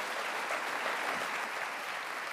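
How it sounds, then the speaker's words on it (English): Audience applause fills a conference hall after an opening plenary panel, a dense, steady wash of clapping from many hands with no voices over it. "Now I'd invite everyone to give my panelists a very warm round of applause."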